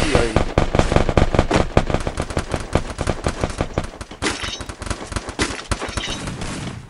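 Rapid bursts of video game gunfire crack in quick succession, dense and loud at first, then thinning into scattered shots over a continuous background.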